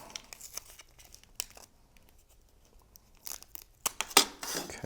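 Tape being pulled and torn while assembling a light-up butterfly gift box, with soft crinkling and scattered short rips that build to a sharper tearing burst near the end, close and alone.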